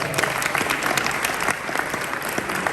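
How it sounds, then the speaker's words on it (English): A gala audience at a Boca Chamber event gives a round of applause, a steady, dense patter of many hands clapping throughout with no break. "Give them a round of applause."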